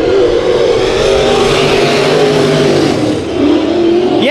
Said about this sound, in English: Jason Nation, that 83 car, good-looking machine, getting ready to take the green